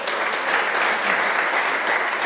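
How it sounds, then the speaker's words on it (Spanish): A church congregation claps steadily together, a dense, even wash of applause filling the space without a break and with no voices standing out. "Denle un aplauso al Señor"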